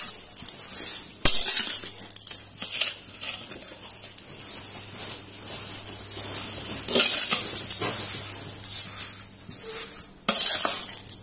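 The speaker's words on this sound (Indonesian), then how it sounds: "kemudian kita naikkan di kompor sambil diaduk rata" Kaddo boddo mixture being stirred in a pot on a stove, with scraping spoon strokes, soft sizzling and occasional sharp clinks against the pot, close and fairly loud with no talking.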